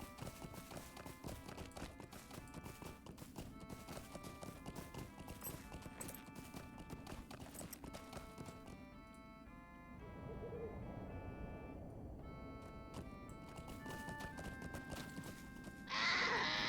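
Horse hooves clip-clop steadily in a video game, a rhythmic trot running under constant game music that fills the whole stretch, fairly quiet overall.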